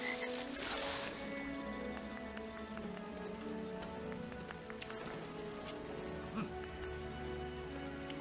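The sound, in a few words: frogs croaking in water in LEGO Harry Potter video game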